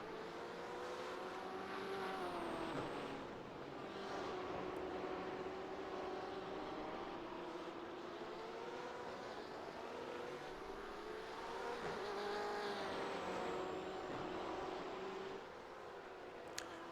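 BMW M8 race cars lapping Tsukuba circuit, a continuous loud engine drone with rising and falling revs as several cars run close together through the 17 seconds, no talk.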